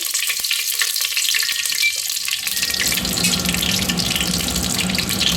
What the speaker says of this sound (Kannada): ನೋಡಿ ಸಾಸಿವೆನ ಹಾಕ್ತಾಯಿದ್ದೀನಿ.